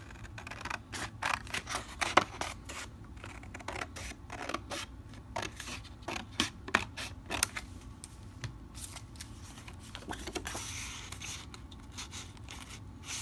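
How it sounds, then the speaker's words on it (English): Scissors cutting along a grid-lined paper page for a journal, with a run of quick, crisp snips and rustles close by, continuing in irregular bursts. "So I think I will cut it right here."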